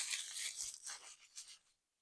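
Paper wrapping torn off the back of a Cthulhu: Death May Die board game box, a quick series of close, crisp rips lasting under two seconds before silence.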